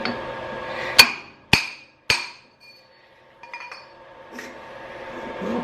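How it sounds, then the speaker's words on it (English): A hammer strikes an old tractor part three times in quick succession, each tap sharp, loud and metallic with a short ringing decay, followed by quiet workshop ambience and faint rustling. "Just doing about 2 taps."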